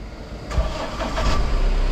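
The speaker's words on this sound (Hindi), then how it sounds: "अब भाई गाड़ी को स्टार्ट किया जाएगा," A diesel vehicle engine starting up: a brief cranking burst, then the motor catching and settling into a louder, rough steady idle, close by.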